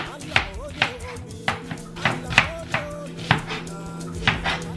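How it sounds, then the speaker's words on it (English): A knife chops onions on a cutting board with about ten steady, close knocks while a person talks throughout and a voice is heard in a home kitchen. "So I'm gonna slice some onions and, just chop my onions in"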